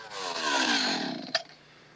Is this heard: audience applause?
no